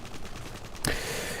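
L86 LSW light support weapon fire in Modern Warfare 3, a single sharp gunshot crack that bursts out near the end and leaves a loud, sustained ringing wash behind it, with a quieter patter of game noise before.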